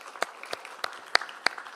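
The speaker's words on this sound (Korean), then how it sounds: "우리 박수로 환영하겠습니다" A church congregation claps to welcome a newcomer during a Sunday service, giving five or six sparse, separate claps spread over a couple of seconds, fairly soft and roomy, with no talking.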